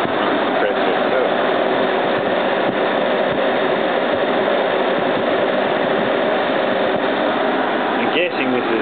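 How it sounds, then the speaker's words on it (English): An old heat pump, roughly 40 years old, runs steadily with a quiet compressor and refrigerant gas hissing through the line, a continuous broadband whoosh held at an even level throughout. "Really quiet compressor in there. You just hear the gas down through the line from the compressor itself."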